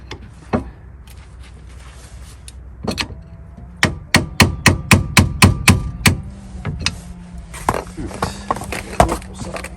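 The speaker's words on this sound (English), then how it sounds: "let's use a little persuasion with the hammer" Hammer blows on a stuck rear brake caliper piston tool on a Honda Accord: a few scattered knocks, then a rapid run of about ten sharp, evenly spaced metallic strikes, followed by lighter taps, close and loud.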